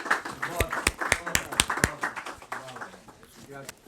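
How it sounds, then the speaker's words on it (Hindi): An audience at a Lahore mushaira claps in scattered, sharp handclaps that thin out over a few seconds, mixed with people talking. "दोस्तों की भरपूर तालियों में तशरीफ़ लाएँ जनाब डॉक्टर गाफर शहजाद साहब।"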